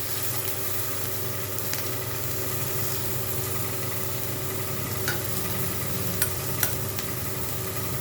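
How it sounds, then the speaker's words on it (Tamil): Finely chopped onions sautéing in a pan, a continuous even sizzle with soft stirring scrapes and a couple of brief sharp clinks near the end, steady and close with no voices. "இதை நல்லா நம்ம வணக்கிக்கலாம் வெங்காயத்தை நல்லா வணக்கிக்கலாம்"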